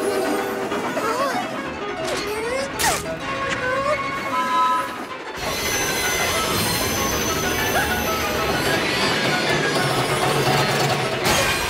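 Train wheels squeal and grind along the rails with shifting, wavering metallic tones, joined by clanking mechanisms, loud and continuous with a brief dip partway through.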